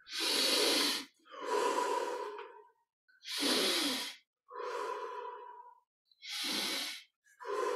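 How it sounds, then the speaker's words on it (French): Slow, deep breaths during a guided meditation, taken with the chest opened and hands placed behind: three full cycles of a strong, airy inhale followed by a longer exhale, close and clear, with short silences between and no talking. "on ouvre la poitrine et on prend 20 respirations profondes"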